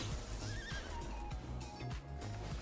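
A horse pet in a video game neighs repeatedly with clip-clopping hooves over a dense, steady game soundtrack, loud and close throughout.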